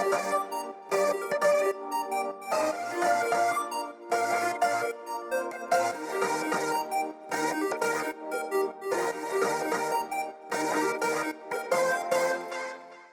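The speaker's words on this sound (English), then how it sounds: "I used some extra layers of synths up above the bass" Layered synth pads and leads stack above a bass line in the final chorus of a produced pop track, with dense sustained chords and rhythmic pulses playing steadily and loud, with no voices.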